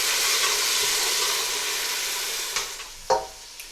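A frying masala of onions and spices sizzles loudly in a pan, the hiss fading slightly while a spoon scrapes and clinks a few times toward the end.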